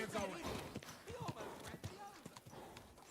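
A horse's hooves clip-clop steadily as it is ridden in Kingdom Come: Deliverance II, a quick, close rhythmic clatter heard under someone talking.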